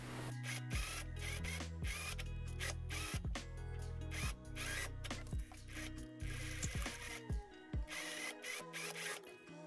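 A sewing machine stitches the waistline of a summer tunic, its needle running in fast, steady mechanical bursts with brief pauses and restarts, close and fairly loud with no talking.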